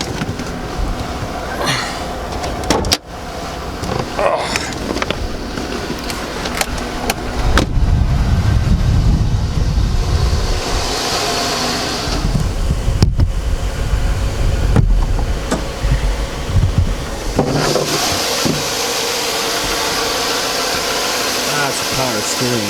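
A 2002 Chevy Avalanche with a 5.3L engine that burns oil runs with its hood open, a steady mechanical hum broken by sharp clicks and louder whooshing stretches as someone moves around it.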